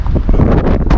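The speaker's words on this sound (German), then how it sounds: "Das war jetzt viel zu windig." Strong outdoor wind buffeting the microphone, producing a loud, continuous low rumble with fluttering gusts throughout.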